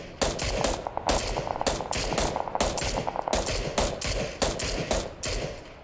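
Rapid automatic gunfire from the PUBG video game, with dense bursts of sharp shots repeating in quick rhythm for several seconds and no talk over it.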